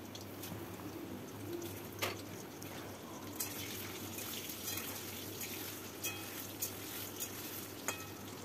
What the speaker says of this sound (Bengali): তেল গরম হয়ে গেলে কোফতাগুলো তেলের মধ্যে দিয়ে সুন্দর করে ভেজে নেব